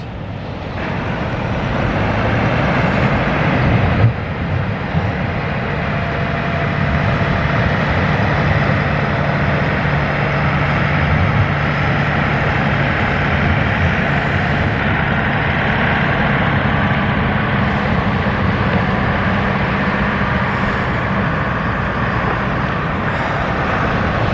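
The Free Spirit 2 powerboat is pushed at full speed, its engine a steady, loud, droning roar mixed with rushing water that runs unbroken for over twenty seconds. No voices are heard.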